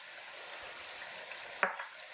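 Soft, steady sizzling of garlic and ginger paste frying in a pan, close by, with one brief clink of a utensil near the end.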